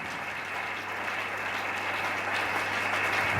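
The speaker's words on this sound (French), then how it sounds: "on acclame s'il vous plaît" A church congregation applauds steadily and loudly throughout, a dense, continuous clatter of many hands with no voices standing out.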